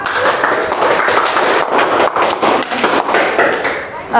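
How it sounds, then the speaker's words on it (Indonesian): Students in a classroom applaud a group after its presentation, a dense, loud, sustained wash of many hands clapping close by, with scattered voices and thumps mixed underneath. "Nah, kasih tepuk tangan untuk kelompok 4."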